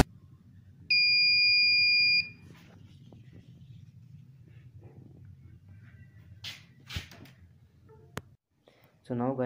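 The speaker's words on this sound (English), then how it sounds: "then this buzzer will turn on, which will show that exactly reverse code has been entered" A buzzer on an Arduino LiFi circuit sounds a steady, piercing electronic tone for just over a second when a wrong code is entered, followed by low background hum, handling clicks and scattered bumps.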